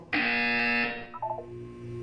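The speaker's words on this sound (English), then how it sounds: "When you hear the buzzer, look down at the floor." Buzzer from the Portal 2 video game: a single loud, harsh electronic buzz lasting nearly a second, followed by a few softer chiming tones that fade.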